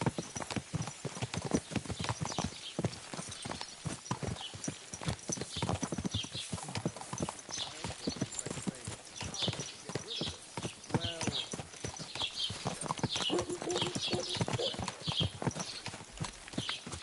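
Steady clip-clop of horse hooves in Kingdom Come: Deliverance II, brisk and continuous, with a busy layered background and occasional faint voice-like sounds.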